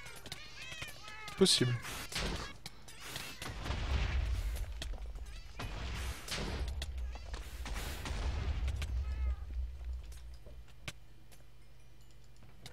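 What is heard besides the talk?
cats meowing in a modded Minecraft video game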